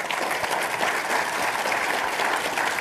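Steady, dense audience applause for panelists at an Army talent conference, filling the whole stretch at even strength with no talk.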